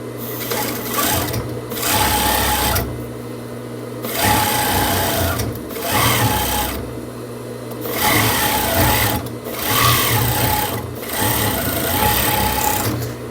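A sewing machine stitches bias binding onto the front hem of a knit sweater blouse with a high collar. It runs in loud, steady bursts of a few seconds each, with brief quiet gaps between them.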